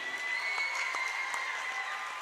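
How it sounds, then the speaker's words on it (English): Steady applause from a crowd at a high school boys basketball game honoring seniors, continuous clapping at a fairly even level throughout with no talking over it. "how about one last round of applause for all the seniors with us this evening"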